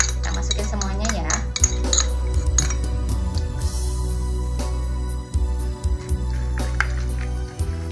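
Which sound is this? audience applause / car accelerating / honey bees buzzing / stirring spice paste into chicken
stirring spice paste into chicken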